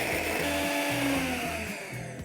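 A kitchen blender grinding ginger, garlic and green chilli into a smooth paste, a steady motor whine with a low pulsing churn as the contents tumble, loud and close with no talking.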